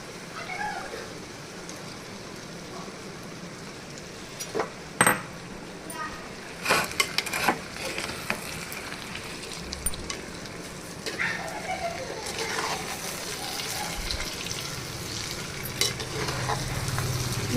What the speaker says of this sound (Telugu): ఇప్పుడు దీంట్లో మనం కడిగి పెట్టుకున్న మటన్ వేసేద్దాం.